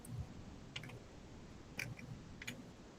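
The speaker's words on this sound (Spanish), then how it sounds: "déjame hacer clic" A few soft, sharp clicks spaced apart, like a computer mouse being clicked, faint against quiet room noise.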